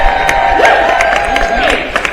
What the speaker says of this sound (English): can we give another round of applause for these amazing people over here?